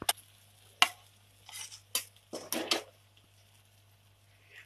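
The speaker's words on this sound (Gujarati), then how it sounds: "તેને બરોબર હલાવી ને મિક્સ કરી લઈશું" Veg biryani in a kadai, stirred and mixed with a spoon: a quiet setting broken by several short, crisp scraping strokes and scuffs, some grouped close together, then silence.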